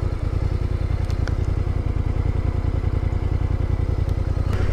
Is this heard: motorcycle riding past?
yes